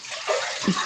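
Water gushes steadily into a pot, about 1.5 litres poured in for boiling rice, a close, continuous pour lasting under a second with no talking.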